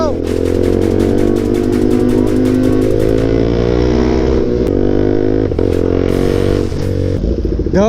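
A Kawasaki ZX-10R and a KTM RC 390 ridden on the road: loud, close sport-bike engine drone with rising revs and gear changes, plus rattling clatter and wind rush throughout.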